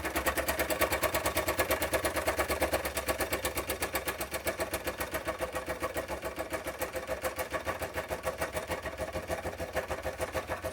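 A Doll 360/3 two-piston ship steam engine runs with steady, rapid mechanical chugging at an even pace, loud and close, with dense rhythmic clatter and no talk.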